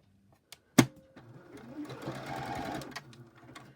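A sewing machine stitches fabric for a snippet roll or fabric bag. A sharp click comes first, then a short steady whirring run that stays close and moderately loud.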